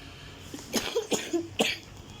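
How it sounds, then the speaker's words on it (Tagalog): Several rough coughs from one person in a bedroom, clustered in a short burst of about four hacking bursts, close to the microphone with no talking. "may ubo kasi talaga ako"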